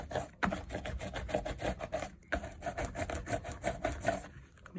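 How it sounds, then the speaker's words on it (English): A roller is pushed back and forth over a glued journal cover, giving a close, repetitive rasping rub in quick regular strokes with a brief pause midway. "I'm just rolling him down, getting that glue, all the excess glue squished out"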